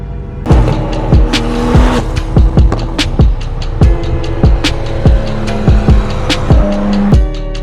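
An 800 hp Nissan R35 GT-R launches off the brake with a loud, close engine roar broken into sharp repeated bursts and pops, a rapid stuttering rhythm of revs and bangs with no talking.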